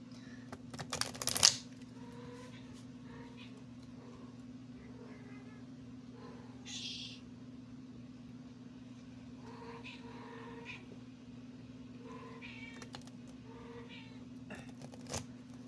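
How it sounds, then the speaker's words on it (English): A pet cat meows indoors, a sharp loud cry early on followed by fainter, scattered mews over a steady low electrical hum. "Since this cat of mine is feeling so vocal"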